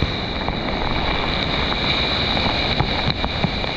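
A strong wind storm with 100 km/h gusts at Port Waikato, a loud, constant roar of wind buffeting the microphone, with no voices.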